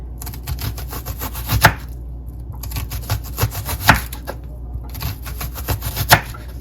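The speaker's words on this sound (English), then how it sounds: "So now I'm gonna slice up my onion." A knife slices an onion on a cutting board for Jamaican escovitch fish, giving quick rhythmic series of cuts in three bursts, each ending with a firmer chop, close and clear.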